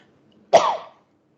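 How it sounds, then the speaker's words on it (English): A single short, sharp cough close to the mic, framed by silence on either side. "I can't mute this and I have to cough."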